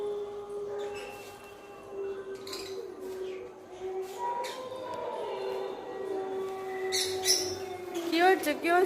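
Parrots and pigeons calling at a water park, with scattered chirps and whistles mixed into steady crowd noise and nearby people talking throughout.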